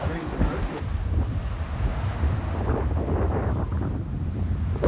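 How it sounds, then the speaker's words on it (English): A sailboat crossing the Pacific in the trade winds meets a rain squall. Gusty wind buffets the microphone over the continuous wash of waves against the hull, a loud, steady roar throughout. "We have a squall of rain heading straight for us."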